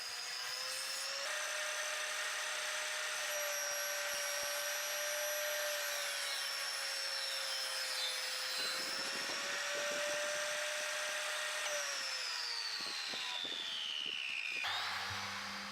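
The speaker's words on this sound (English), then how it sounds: "So I adjust the fence and the saw blade, and I'll cut this rabbet out in 2 passes." A table saw cuts a rabbet into wooden frames in a steady, loud, whining drone that runs for about fifteen seconds, with the pitch dipping slightly under load, then spins down near the end with no talking.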